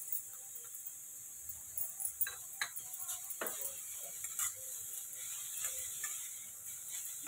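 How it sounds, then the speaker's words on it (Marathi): Grated beetroot and coconut stirred and sautéed in a pan, with a faint sizzle under soft, scattered scraping taps of a spoon against the pan. "चांगलं परतून झालं बीट आणि नारळ."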